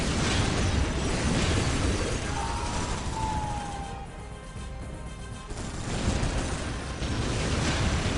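A Space Marine Predator tank firing its guns in Warhammer 40k Dawn of War, heavy booming blasts and crashing bursts that roll on continuously, dip briefly in the middle, then pick up again.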